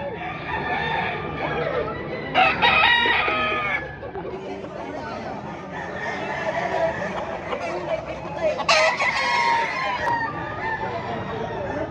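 A Mayahin gamecock, a Golden Boy Gilmore bloodline rooster, crows loudly twice at a busy chicken market in Padre Garcia, Batangas, with other fowl clucking and crowing under steady crowd chatter and nearby talk.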